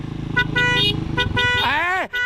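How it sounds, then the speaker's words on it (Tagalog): A car horn honks in a few short toots over idling engine noise at a mud race, then one longer blast that bends downward and cuts off. "Yung busina niyan."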